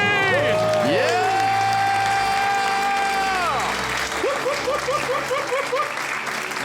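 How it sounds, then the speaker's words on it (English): A live audience erupts after a countdown, screaming, whooping and cheering with sustained applause. The shouts are loud, dense and close, and rise and fall over continuous clapping. "The crowd goes wild."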